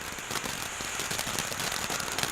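A sparkling fountain firework crackles and fizzes with a dense, continuous spray of sputtering pops, fairly faint and steady throughout the short stretch.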